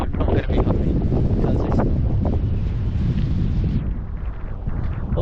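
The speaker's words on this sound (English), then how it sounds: "this wind is going to play havoc with the audio" Strong wind batters the microphone on a coastal hike around Watersmeet, a loud, continuous low roar and buffeting that holds throughout and eases slightly near the end.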